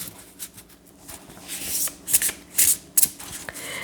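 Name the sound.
shuffling large gilded tarot cards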